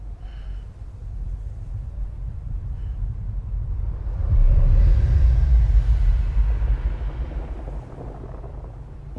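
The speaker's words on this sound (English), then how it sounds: "Once there was an explosion." An explosion in the video game Death Stranding comes as a deep, swelling rumble that builds to a loud roaring peak, then slowly fades back into a low drone.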